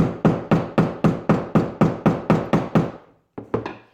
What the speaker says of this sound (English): I'm just going to take this over to the trusty old hammer